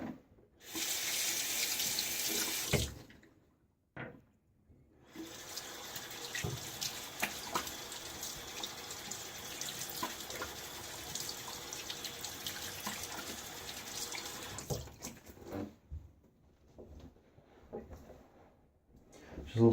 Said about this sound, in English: Just a little splash of water